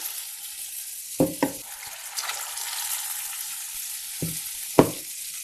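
Purnam boorelu, batter-dipped sweet balls, frying in hot oil with a steady hiss and a few louder bursts of crackle as pieces are moved, heard close and without talk.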